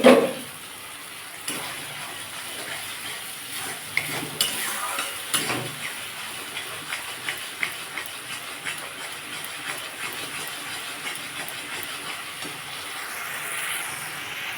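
A vegetarian spice paste for potato and pointed gourd curry being stirred and sautéed in a pan, a steady sizzle with irregular spoon scrapes, close and moderate, with no talk.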